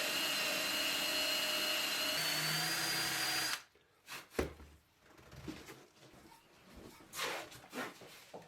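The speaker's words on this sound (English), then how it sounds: "we'll then take it over to the drill press and drill the pilot holes" A drill press whines steadily for a few seconds while drilling pilot holes, then stops, followed by scattered clunks and handling noises nearby.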